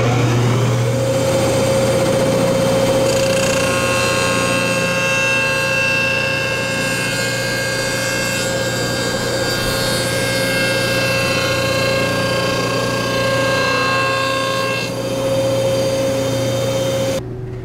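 A woodworking jointer runs while planing a wood edge, a loud, close, continuous motor hum with a steady high whine that holds for about seventeen seconds with only slight changes in tone.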